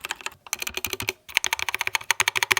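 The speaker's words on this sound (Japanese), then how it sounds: "こうキーによって若干音が違うっていうのも結構ねメカニカルキーボード" Rapid typing on a Keychron K2 mechanical keyboard, crisp clacky keystrokes in quick irregular bursts with a short pause, close and clear with no talking.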